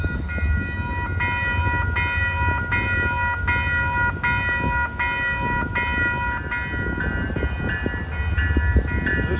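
An MBTA commuter rail train on the old Boston and Maine line to Newburyport rolls by, a loud steady rumble with rhythmic wheel clacks over rail joints and a faint tonal ring above.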